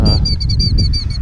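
An outdoor bird gives a loud, close, repeated honking call, a rapid series of harsh notes lasting just over a second.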